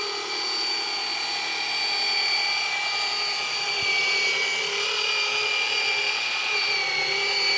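A dual-action polisher runs steadily on a car's clear coat during a paint correction session, giving a continuous high-pitched whine with a smooth, unbroken hum throughout.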